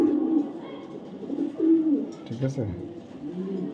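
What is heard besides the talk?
blue pied pigeons cooing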